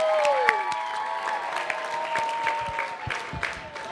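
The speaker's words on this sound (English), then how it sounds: "I think we should give a round of applause for the volunteers for making camp more fun every year we come to camp." Camp audience applauding the volunteers at a campers' reflection gathering, a sustained round of clapping with crowd murmur and some steady tonal sounds running underneath.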